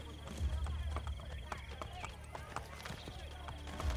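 A horse's hooves clop rhythmically at a quick pace in Assassin's Creed Brotherhood, moderately quiet, with game ambience and soft thuds underneath.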